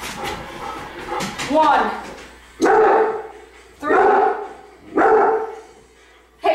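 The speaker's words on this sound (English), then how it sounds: "He's barking at a garbage can." A dog barks at a garbage can in a series of loud, close barks spaced a second or so apart, after a person counts aloud and speaks over the start.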